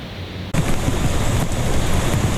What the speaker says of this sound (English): Rain falls on the Catawba River, the drops of water reflecting on the surface, while Eric Janderson and his family got it.